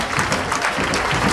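An audience claps at a bridal fashion show of Antillean wedding dresses, a dense, fairly loud burst of applause that fills the whole moment.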